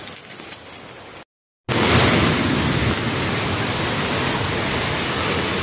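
Malabsay Falls pours down in a loud, steady wash of falling water after a brief cut to silence, a dense continuous roar heard up close with no talk over it.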